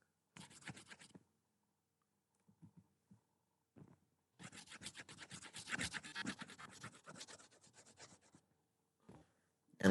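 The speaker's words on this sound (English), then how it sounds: "So I'm going to erase this." Dry rubbing and scratching of an eraser wiping writing off a board, in a short burst, then scattered taps, then a longer sustained stretch of brisk scrubbing strokes, close and moderately loud with no talk.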